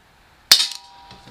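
One sharp, snappy pop of an Umarex Walther P38 CO2 blowback BB pistol, close by in a quiet room, with a short metallic slide clack and brief ring after the shot.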